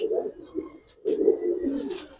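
Giribaz pigeons coo on a farm in two low, rolling bursts separated by a brief pause, close and moderately loud.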